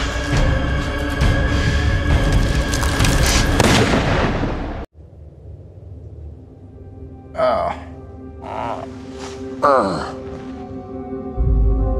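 A single loud gunshot blast with a long ringing tail opens a tense dramatic scene, followed by a sudden cut to quieter ambience with sharp voice outbursts.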